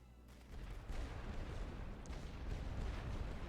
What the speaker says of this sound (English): Klaar voor volledig spervuur.